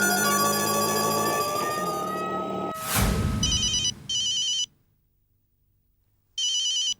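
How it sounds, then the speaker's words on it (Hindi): A telephone rings in a Mumbai comedy scene, with music fading out first, then the electronic ringtone bursting in repeated short rings separated by a silent gap, close and clear. "जेठालाल का फोन"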